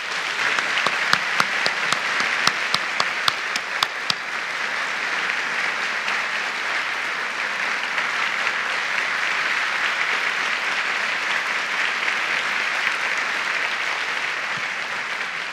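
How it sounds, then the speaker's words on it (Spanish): A TEDx audience bursts into applause: a few sharp individual claps at first, then a sustained, even wash of many hands clapping for around fifteen seconds, steady and fairly loud throughout. "Alexander se merece más que un aplauso."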